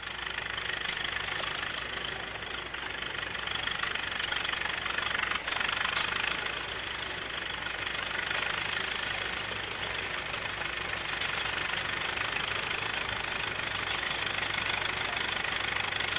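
A 1930 Caterpillar 30 tractor weighing 9,500 pounds runs steadily at low RPM, its engine giving a continuous knocking, thumping chug with no talk over it, heard close and fairly loud at an antique power show in Brooks, Oregon.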